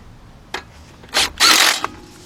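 A 12mm deep socket tightens bolts on a 2010 Honda Accord 2.4 front strut assembly, giving short close ratcheting bursts: one quick click, then two longer rasping runs and a final tick.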